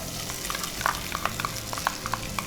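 Onion and cumin frying in sunflower oil in a home kitchen pan, a steady close sizzle broken by sharp spoon clicks and scrapes against the pan.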